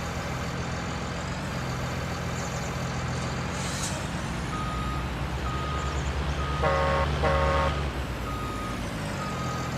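A work truck at an excavation site gives a couple of short, high horn toots over a steady idling diesel engine rumble, with an air-brake hiss nearby.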